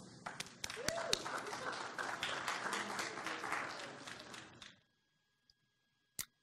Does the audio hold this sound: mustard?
no